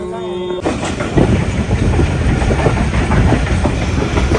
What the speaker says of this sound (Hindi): ये हमें लेके जा रही है, ट्रेन लेके जा रही है।